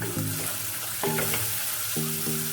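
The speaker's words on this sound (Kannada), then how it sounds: "ಟೊಮೆಟೊ ಎಲ್ಲ ಚೆನ್ನಾಗಿ ಫ್ರೈ ಆಗಬೇಕು." Onion and tomato fry in a pan for a sardine curry, giving a loud, steady sizzle close by, with a few stirring scrapes breaking in at intervals.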